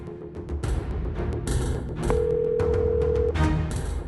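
An unanswered phone call in a busy, noisy spot: a single steady ringback tone lasting just over a second sounds above loud background chatter and clatter.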